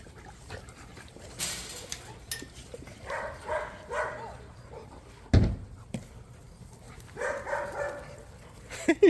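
Dogs in a kennel make intermittent noises: sharp barks, panting and whimpers, with a few louder thumps in a reverberant space.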